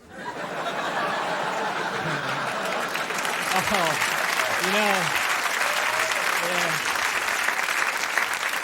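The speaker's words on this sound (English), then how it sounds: "That applause is addicting, man." A studio audience applauds steadily at a stand-up comedy set on a late-night talk show, dense clapping mixed with chuckles and scattered laughter, while someone speaks over it.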